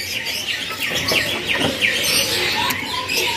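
Male oriental magpie-robin (murai) at a bird market kiosk giving repeated short chirps and whistled notes in quick succession, set against busy market background noise.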